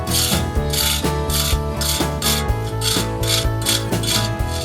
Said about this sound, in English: I'm scoring the top of our block wall with my trowel